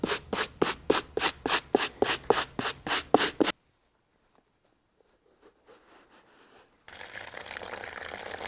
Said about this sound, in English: take the medium bristle brush, and I'm just gonna hit the undersoles just to get the dirt off the bottom of these shoes